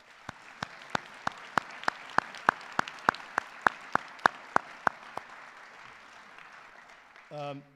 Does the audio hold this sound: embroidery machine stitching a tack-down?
no